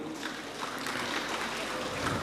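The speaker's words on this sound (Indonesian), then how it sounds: "Kita beri tepuk tangan untuk kor gabungan" A church congregation at a Christmas service claps for a combined choir, a continuous moderate patter of many hands filling the space, with some voices mixed in.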